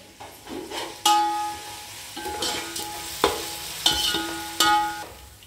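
Something frying in a pan on a home stove while cooking Rayalaseema vuggani: soft sizzling broken by several sharp clanks and scrapes of a utensil against the pan, close up, no talk.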